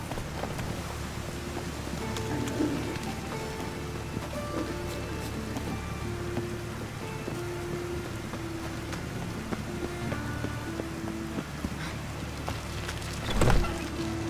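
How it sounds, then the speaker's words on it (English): Steady rain in the video game The Witcher 3 patters and hisses continuously at moderate volume, with a low rumbling hum underneath and a single brief thump near the end. "It's raining again."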